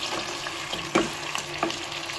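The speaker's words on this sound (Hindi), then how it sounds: "देखिए, इसको हम ऑयल में गोश्त को भून रहे हैं" Mutton pieces fry in oil with cinnamon sticks, cloves and black peppercorns, giving a low steady sizzle up close with a few sharper spatula clacks and scrapes against the pot.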